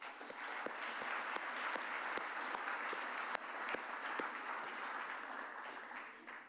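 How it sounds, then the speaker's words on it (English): An audience at a security research event applauds the moderators with sustained, dense clapping throughout that fades slightly at the end. "join me in applauding them for their work"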